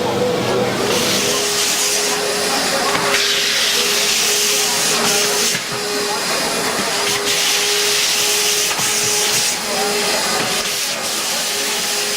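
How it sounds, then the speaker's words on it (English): A wet vacuum extracts diamond-abrasive polishing slurry from a stone surface, giving a loud, steady hiss and rushing roar with a constant whine, uninterrupted for the whole stretch. "we've just extracted the slurry that we've created using the diamond abrasive"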